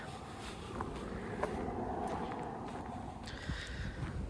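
Wind gusting outdoors on a cold, clear day of about 3 degrees Celsius on a rural walking trail, a steady rushing buffeting the microphone with a few faint knocks and footsteps.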